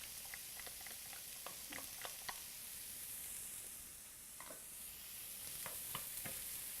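Garlic sizzles quietly in a pan, a soft crackle broken by light scattered pops and taps from stirring, with no talking.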